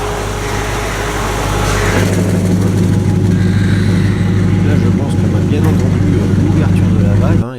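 A performance car engine with exhaust valves open idles with a loud, steady, deep rumble close by, holding constant before cutting off abruptly at the end.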